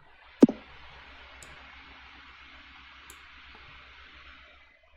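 Single sharp computer mouse click on a link, close and distinct, followed by a faint hum and a couple of tiny ticks.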